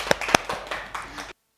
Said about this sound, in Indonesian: Tepuk tangan dong untuk Dewi